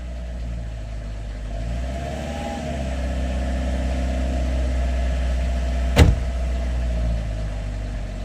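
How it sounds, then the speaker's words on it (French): A van's engine idles steadily just after a cold start, a low, even, rounded hum holding close and constant, with one sharp brief click or knock near the end and no voices. "Et voilà, un bon petit moteur qui tourne bien rond."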